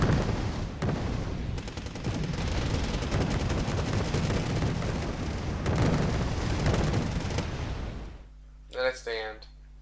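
Heavy battlefield gunfire and explosions from troops fighting in the strategy game Wargame Red Dragon, a continuous loud barrage of shots and blasts that ends abruptly as a voice speaks.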